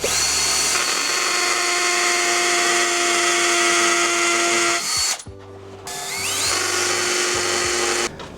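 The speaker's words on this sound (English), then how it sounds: "Now I can drill the pilot holes." A hammer drill set to full speed with hammer action bores pilot holes into brick to mount a Master Lock combination key safe. It whines steadily for about five seconds, pauses, then gives several shorter bursts.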